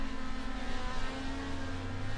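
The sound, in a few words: historic GT1 race car engine in video game Project Cars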